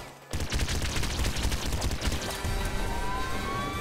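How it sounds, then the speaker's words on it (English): Rapid, steady volley of shots from the disc gun in the Nuclear Throne video game, loud and continuous with a rising whine near the end, no voices. "Oh yeah, the disc gun. That's what I need."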